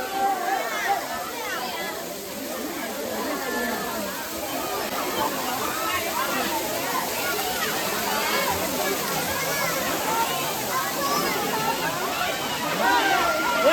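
The Thirumoorthy hills waterfall, running with a low flow, makes a close, steady rush and splash of falling water that holds at an even level the whole time.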